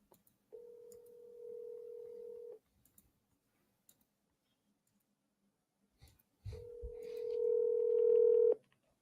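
Two long telephone tones sound close and clear, separated by near silence with faint clicks, as a call is placed to a real estate agent.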